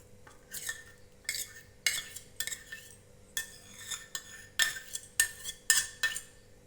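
A spoon scraping and clinking against a bowl while malai is mixed into flattened rice for a fried sweet, in short, irregular bursts of close metallic clatter with brief pauses between strokes, no talking.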